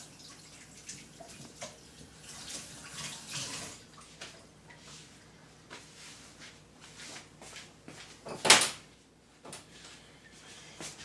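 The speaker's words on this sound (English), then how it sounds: "Wash my hands." Water runs from a kitchen tap as hands are washed during pizza making, a soft intermittent splashing close by, punctuated by a sharp clatter near the end.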